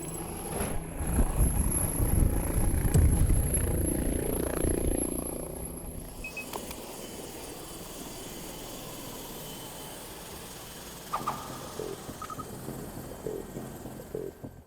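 A Korean doctor helicopter flying on a trauma-center emergency run, its heavy rotor thump loud and close for several seconds, then fading into a distant low drone.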